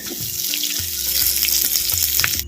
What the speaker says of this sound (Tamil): சின்ன வெங்காயத்தை வரமிளகா மிளகு சீரகம் வெந்தயத்தோடு அப்படியே எண்ணெயோடு சேர்த்து அப்படியே வதக்குறேன்